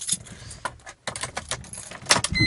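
Keys jangle and clink in a few quick, close bursts, metallic rattles with brief pauses between them.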